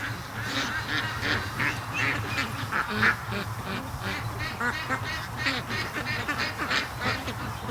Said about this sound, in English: I know there's the wild ducks are here